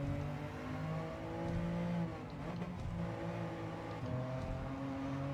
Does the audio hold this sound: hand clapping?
no